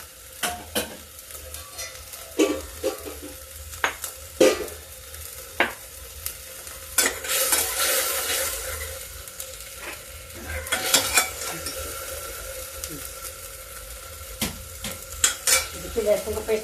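Garlic, ginger and chili paste frying in a pressure cooker, a close sizzle with repeated scraping and clanking of a spoon stirring against the metal pot, with bursts of louder hissing.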